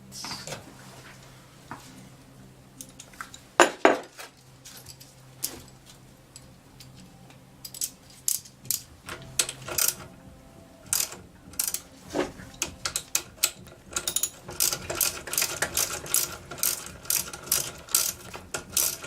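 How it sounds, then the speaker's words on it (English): A bolt being worked off a hydraulic floor jack during a rebuild, close metallic ratchet clicks in quick bursts that grow denser and louder toward the end, with scattered clanks and no talking. "So I gotta pull that bolt off."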